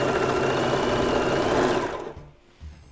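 A home sewing machine, newly threaded by a beginner, stitches through scrap fabric in a steady, fast mechanical whir that runs loud and close for about two seconds, then cuts off with a brief softer clunk.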